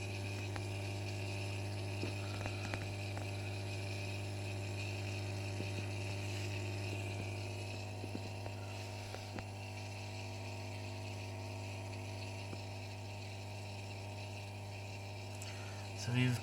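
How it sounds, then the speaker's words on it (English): A Bosch dishwasher with error E24 runs its drain pump, a steady low hum with faint water gurgling that holds evenly throughout at low volume. "So now we can hear the drain pumps run again."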